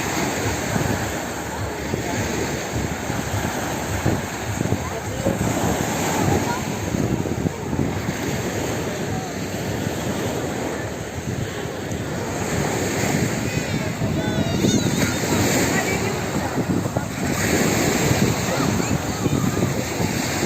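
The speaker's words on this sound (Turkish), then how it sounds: "Denizimiz bugün biraz dalgalı." Surf rolls and breaks continuously on Ören Beach in Burhaniye, Balıkesir, with a broad, hissing wash, mixed with wind buffeting the microphone; a voice speaks intermittently over it.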